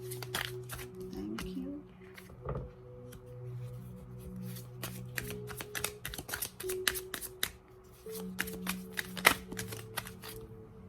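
Playing cards riffle-shuffled by hand in a quiet indoor setting, rapid crisp flutters and snaps in repeated bursts throughout, with faint voices in the background.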